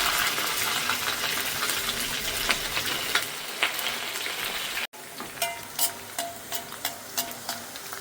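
Garlic and a pinch of asafoetida sizzle hard in hot oil while being stirred for a cluster beans dish, a steady frying hiss broken by sharp clinks of a spoon against the pan.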